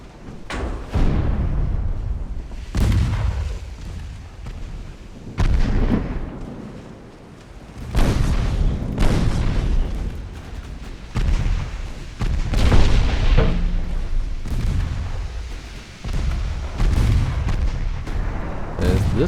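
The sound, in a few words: warship torpedo launches and gunfire in the naval video game UAD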